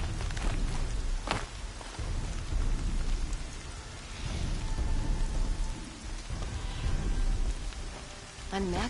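Steady rain hisses across the open world of the video game Horizon Zero Dawn, with soft rumbles and a few sharper drips or thuds scattered through the continuous downpour.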